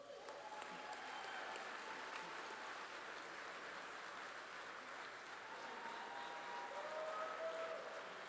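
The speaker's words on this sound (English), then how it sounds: "Everybody give them a round of applause." An audience at an evening gala applauds the children of an after-school program, a steady, moderately distant wash of clapping that holds evenly throughout with no talk over it.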